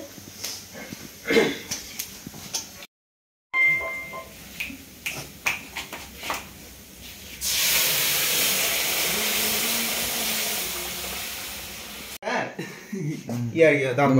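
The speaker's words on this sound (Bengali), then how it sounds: "এই যে প্রেসারে আলু দিয়েছে।" A pressure cooker boiling potatoes in a student mess kitchen lets out a long, steady steam hiss mid-clip, preceded by voices and kitchen clatter, with talk resuming afterward.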